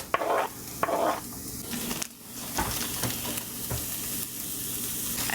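Garlic and dal spice blend frying in a pan, a soft crackling sizzle with scraping stirs and light utensil scuffs, close and steady without talk.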